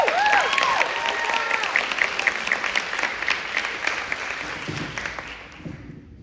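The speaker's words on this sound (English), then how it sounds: "So go ahead and give a round of applause to Veronica." Audience applause at an International Women's Day event, a steady crowd of hands clapping with a few whoops, holding strong before tapering off near the end as a voice begins.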